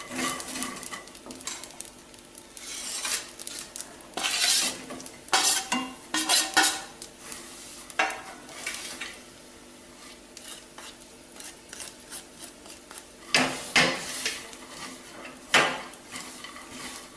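Cashews and other nuts roasting in a pan for date and nut ladoos are stirred with a utensil, giving repeated bursts of scraping and clinking against the pan, close and fairly loud, with short pauses between stirs.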